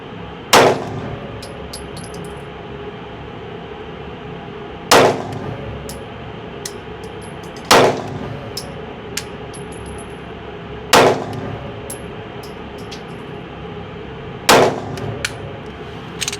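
Five sharp pistol shots from a handgun fitted with an Osight red dot sight, spaced a few seconds apart at an outdoor range, each a loud crack with a brief echo over steady background noise.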